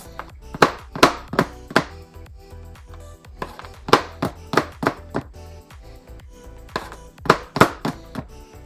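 Chocolate, including bunnies, M&Ms and chips, being chopped with a knife on a board: clusters of sharp, close thunking chops in quick rhythmic bursts separated by short pauses, with no talking.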